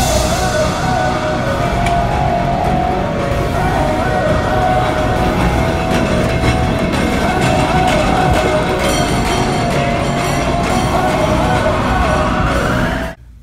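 A train passes as a sound effect, a loud continuous rumble and rattling clatter with a steady tonal whine layered over it, sustained for several seconds before cutting off abruptly.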